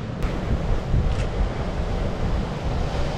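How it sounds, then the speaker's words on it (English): Ocean water pushes over a reef with a continuous low rumbling wash of surf, steady and fairly loud, mixed with wind buffeting the microphone and no speech. "the water's pushing over the reef up there, and then it's got to exit somewhere"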